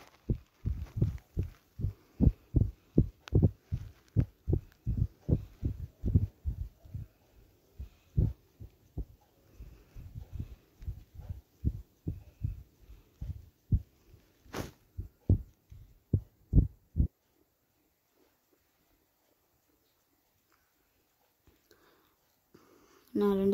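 A sewing machine stitching a petticoat runs in quick rhythmic bursts of close mechanical thumps for about seventeen seconds, then stops, leaving near silence with faint noises.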